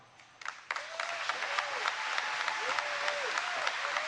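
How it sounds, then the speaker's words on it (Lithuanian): Crowd applause after Biden's political speech urging national unity, a steady, dense clapping that builds quickly and then holds at an even level for several seconds. "Tie plojimai"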